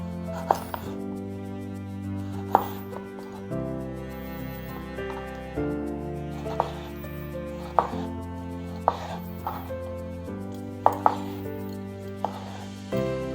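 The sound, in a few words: chopping tomatoes into chunks on a board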